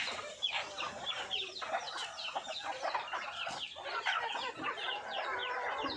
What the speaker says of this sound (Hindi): बड़ी से बड़ी प्रजाति की मुर्गियां हैं, रजा पोल्ट्रीज। देख सकते हैं छोटे छोटे कड़कनाथ के बच्चे